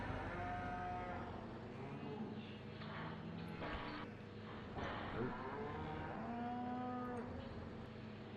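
Cattle moo repeatedly in the farming game Farming Simulator 17, several long drawn-out lowing calls rising and falling over a steady background hum of the game's farm ambience.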